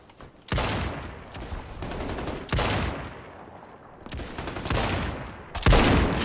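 Sharp bursts of gunfire in Battalion 1944, four loud volleys separated by short gaps, each with a quick rattling run of shots and a lingering tail, close and without talk.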